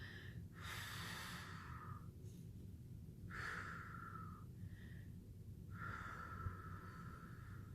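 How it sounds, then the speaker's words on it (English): Slow, deep breaths taken during a guided anxiety-calming exercise, three long airy inhales and exhales spaced a few seconds apart, close and fairly soft, with no talking. "Breathe deeply."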